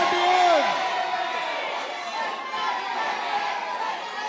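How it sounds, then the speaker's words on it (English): Crowd at a Muay Thai championship fight night in Negombo, a steady mass of cheering, chatter and applause heard from some distance, sustained and fairly even throughout with a brief whistle-like whoop near the start. "I think you can probably hear this sound of people cheering and clapping."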